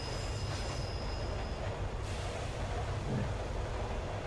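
A train rolls continuously through the horror game Train 113, a steady loud rumble of wheels and carriage noise with a faint high squeal early on, heard alone.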